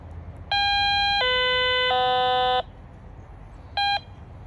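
An EENOUR GC 1078 metal detector boots up with loud electronic tones: three sustained steady beeps at stepping pitches, then after a pause a single short beep, over a low hum of background noise.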